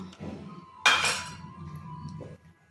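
A metal lid set onto a cooking pot holding spiced water with cardamom, cinnamon and cloves: one bright clattering clink with a brief ringing tail, close and clear, between quiet moments of a voice.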